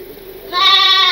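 A goat lets out one loud, close, drawn-out bleat at a village goat distribution where pairs of goats are handed to families.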